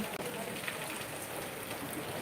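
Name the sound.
rain falling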